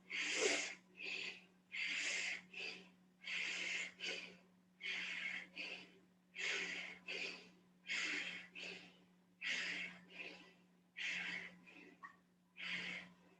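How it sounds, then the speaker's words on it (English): Rapid pumping breaths in a hatha yoga class, each forceful inhale and exhale landing as a breathy rush in a steady rhythm of about one and a half per second, close and clear with no talking. "So it'll be inhale, exhale like a pump."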